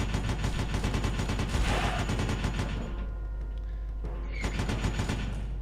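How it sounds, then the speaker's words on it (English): Rapid machine gun fire from the game Larva Mortus, with dense, loud bursts rattling almost nonstop and a brief lull partway through before the shots pick up again. "I feel like the massive machine gun is probably the best weapon"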